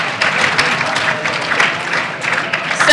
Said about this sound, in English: And clap for that, you guys.